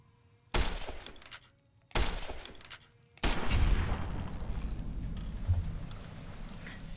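Sharp gunshots ring out in Fallout: New Vegas as a scorpion is targeted, three loud reports spaced about a second apart, each leaving a ringing tail, the last followed by a sustained rumble.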